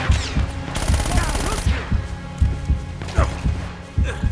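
Gunfire in Uncharted: Drake's Fortune: repeated punchy shots in a steady rhythm, loud and close, with a player's voice talking over part of it.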